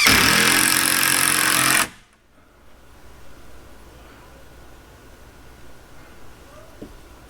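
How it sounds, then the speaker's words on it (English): A power drill drives 2.5-inch construction screws into T1-11 siding, loud and close for about two seconds before cutting off abruptly, leaving quiet room tone with a faint tap near the end. "I'm going to go ahead and get the rest of these screws in."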